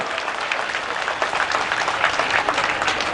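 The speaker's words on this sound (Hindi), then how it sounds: "एकचोटि जोरदार ताली बजाएर तपाई हामी उहाँको अभिनन्दन गरौं" A large crowd at a Ram Navami gathering at Janaki Mandir bursts into dense, sustained applause, loud and close, with many hands clapping continuously without pause.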